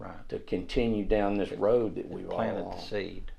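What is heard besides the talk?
None of the usual background noises is heard.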